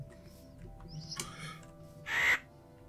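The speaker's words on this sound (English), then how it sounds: "How hard can a crow be to kill" A crow in the Minecraft Twilight Forest, played in the GregTech New Horizons modpack, gives a single harsh caw near the end. It rises clearly above a steady low game ambience and a few softer clicks.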